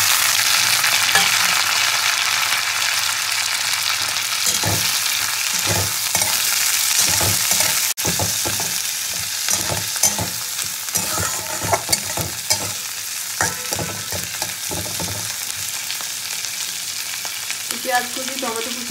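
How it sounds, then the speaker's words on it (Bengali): Chopped onion and tomato fry together in hot oil in a pan, giving a steady close sizzle broken by repeated scraping strokes of a stirring spatula, with no talking. "পেঁয়াজ কুচি, টমেটো কুচিতে একসঙ্গে ভেজে দেবো ভালো করে"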